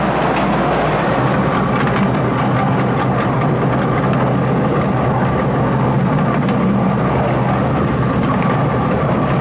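A ride train rumbles steadily at the Pleasurewood Hills amusement park. The loud, continuous low roar of its wheels and running gear carries on without a break and fills the whole moment.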